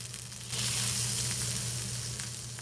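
Hilsa fish intestine frying with onion in a pan gives a steady, close sizzle that swells after a brief quieter start and holds loud and even, with a low hum beneath and no voices.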